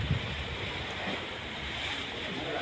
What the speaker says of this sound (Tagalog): So it's a little bit it's windy today. Medyo maalon siya.